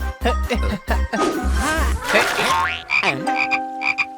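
A cartoon frog croaks from inside a well in a Malayalam children's cartoon, its exaggerated, close croaks repeating in quick bursts alongside tinkling effects, with brief voices heard.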